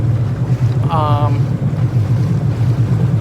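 A Sea-Doo GT personal watercraft idles on the Hudson River near Albany with a low, slightly chuggy engine drone. Wind buffets the microphone and water laps nearby, and a brief whistle-like tone rises partway through.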